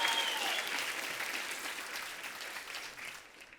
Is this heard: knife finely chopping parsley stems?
no